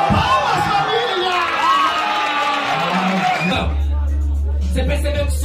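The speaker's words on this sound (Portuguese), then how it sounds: "Palmas, família!" A crowd at a Brazilian rap battle cheers, shouts and whoops loudly for about three and a half seconds, then the noise cuts off abruptly into a deep, bass-heavy beat.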